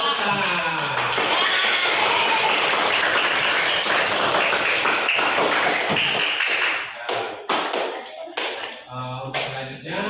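A group of people breaks into dense, sustained hand clapping that fills the room for several seconds, then thins into scattered claps, with voices talking beneath.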